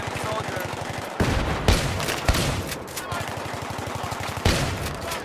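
Shotgun blasts in Battlefield 3 multiplayer, several sharp heavy reports spaced a second or so apart over steady rapid automatic gunfire and battle noise, with a player talking over it.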